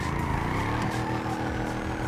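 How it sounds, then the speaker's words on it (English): Car engine idling and revving in the GTA 5 video game with real-life mods, a loud continuous rumble with strong low harmonics that swell slightly, steady throughout with no voices. "Oh, I could listen to this engine all day, man."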